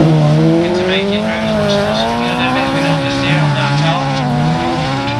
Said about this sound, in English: fairly triple three race at the front